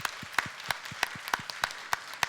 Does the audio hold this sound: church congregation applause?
yes